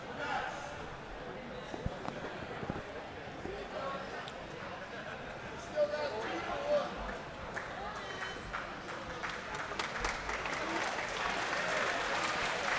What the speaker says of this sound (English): Fans cheering, but I'm not really sure why.